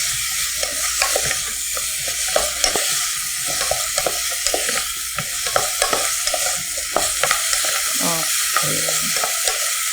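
Potato frying in a pot for Korean gochujang stew while being stirred, a steady close sizzle broken by frequent scraping stir strokes throughout.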